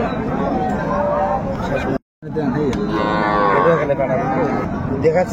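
Cattle low at a busy rural livestock market in Raniganj, Dinajpur, where cows and calves are being sold. The calls sound loud and close over steady crowd chatter and someone talking, with a brief silent gap near the middle.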